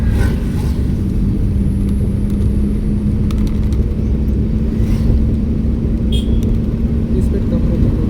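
A car driven on a road by a first-time driver, steady engine rumble and tyre noise filling the cabin with a constant low hum, while people talk over it.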